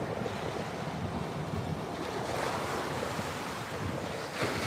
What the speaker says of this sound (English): We've got some good waves.